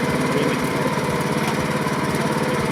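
The engine of a 4-foot-wide reaper wheat-cutting machine runs loud and close with a steady, throbbing drone and rapid pulsing rhythm, continuous and alone.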